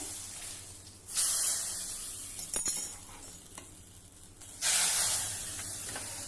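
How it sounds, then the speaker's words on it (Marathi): A hot red tempering made with Byadgi chili powder is poured onto Sindhi kadhi, setting off two loud, hissing sizzle bursts that each swell suddenly and then fade, with a brief clatter between them. "छान लाल तर्री असलेली ही फोडणी आता कढीवर घालायची आहे"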